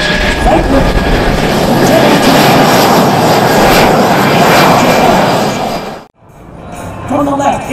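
Loud, roaring jet noise from a large military airlifter of about 500,000 pounds at an air show at Joint Base Charleston, a sustained broad rumble that suddenly cuts off before resuming faintly.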